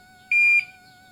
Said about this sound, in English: it made one little beep when it got into temperature